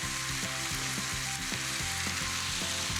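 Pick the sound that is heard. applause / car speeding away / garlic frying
garlic frying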